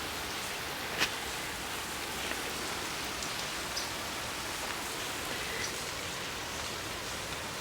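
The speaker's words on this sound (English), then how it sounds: "The rain has begun." Steady rain falls on outdoor surfaces, a dense, even hiss with scattered raindrop taps and one sharper drip near the start, continuous and unbroken with no voices.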